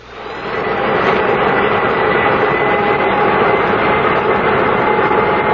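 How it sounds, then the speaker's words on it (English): Airliner engines spool up in a radio drama sound effect, a loud, steady roaring whine that swells in the first second and then holds alone without talk. "Request permission to start engines."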